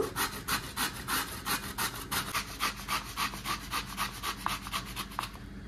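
Bottle gourd scraped against a grater in quick, regular strokes, each rasp close and clear, around three per second, continuing evenly for several seconds with no talking.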